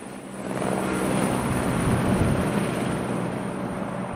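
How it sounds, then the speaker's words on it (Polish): A helicopter lands on a school roof, its steady rotor and engine roar loud and close, holding at a constant level throughout with no voices. "Na dachu naszej szkoły wylądował właśnie helikopter"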